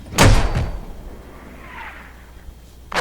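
A tank in Battlefield 1 fires a mortar: one heavy, close thump that fades into a faint whoosh, followed by a second sharp blast right at the end.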